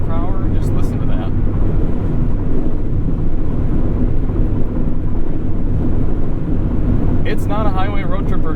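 A 2020 Mazda Miata convertible cruises at 70 mph on a windy day, with heavy, constant buffeting wind roar and low road rumble filling the cabin, and brief bits of voice near the start and end.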